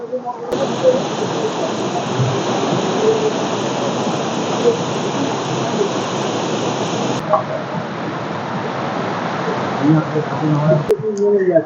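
A waterfall in Keonjhar, Odisha, gives a loud, steady, broadband rush of falling water that continues without a break for the whole stretch, with faint scattered splashes near the end.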